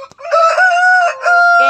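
A three-year-old Rasangi Dega fighting rooster, a breeder bird, crows once in a loud, close, sustained call with a brief break near the end.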